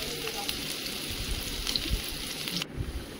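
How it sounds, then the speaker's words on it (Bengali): Chopped onions frying in hot mustard oil, a steady close crackling sizzle with soft pops, running unbroken for a few seconds. "পেঁয়াজ কুচিটা ভালোভাবে লাল লাল করে ভেজে নেব"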